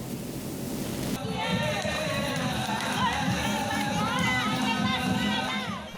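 Large outdoor crowd of pilgrims at the Ziarah Kubro in Palembang Darussalam, a dense steady murmur of many voices and shouts that swells in after a brief start and holds loud throughout.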